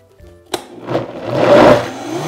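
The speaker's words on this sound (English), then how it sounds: "you're gonna wanna push down the dates into the blender a few times" A blender motor spins up and churns dates into a thick paste, starting with a brief clunk and then swelling into a loud, steady whirring grind that persists to the end.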